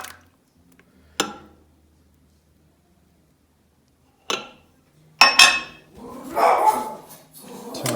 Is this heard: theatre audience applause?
no